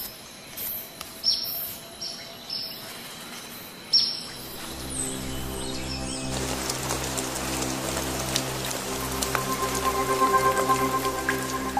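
A rain shower starts with scattered drips, then settles into a steady patter on leaves. Hummingbirds give thin, high chirps above the rain.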